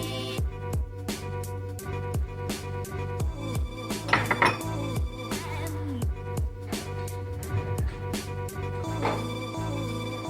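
A spatula stirring a dough mixture of liquid ingredients and warm water in a bowl, with repeated clinks and scrapes against the bowl at an irregular steady rhythm, close and moderately loud, no voices.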